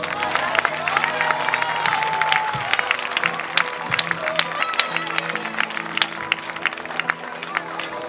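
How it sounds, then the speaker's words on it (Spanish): A church congregation claps steadily in a reverberant room during an evangelical service, a sustained patter of applause with a voice faintly underneath. "Dale el aplauso al Señor."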